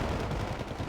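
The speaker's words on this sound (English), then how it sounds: "The Akula's going to get ready to fire now. Missile away." An Akula attack helicopter launches a missile in the Wargame: Red Dragon video game, heard as a brief, dense roaring blast.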